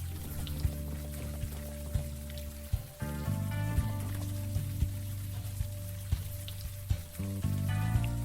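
Steady rain patters in the video game Unavowed, a soft, constant hiss of falling drops with a low background hum, quiet and unbroken with no talking.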